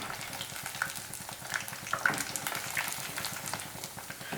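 Coated paneer 65 pieces fry in oil over low to medium flame, a soft continuous sizzle with scattered crackles and pops, close and fairly quiet, with no speech.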